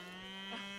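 A mother cow on a farm lets out one sustained, close moo, calling for her calf, the deep droning call holding steady for nearly a second.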